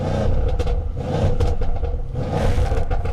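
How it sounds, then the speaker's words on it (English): A stock 2020 Mercedes-Benz AMG C63s in Sport Plus mode revs its engine twice, loud deep surges with crackling exhaust, rising and falling close by with no talking. "Let's give her a couple revs."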